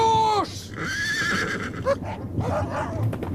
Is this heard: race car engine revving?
no